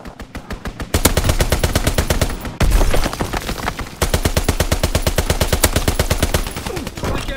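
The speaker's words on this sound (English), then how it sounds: "Fighter pilot inbound," Strafing fighter plane firing machine guns in the World War II shooter Call of Duty: WWII: rapid, loud continuous bursts of automatic fire with brief gaps between them, heavy and close.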